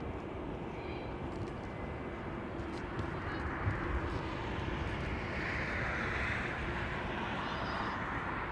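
Saudia Boeing 777 jet at London Heathrow Airport, a dense, steady roar of engines rising gently in strength toward the end, heard from some distance without any voices.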